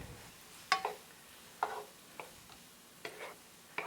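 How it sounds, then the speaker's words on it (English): Garlic sautéing in a pan, quiet background sizzle broken by a few sharp clicks and scrapes of a utensil stirring at irregular intervals, close and fairly soft. "saute that down, along with the garlic"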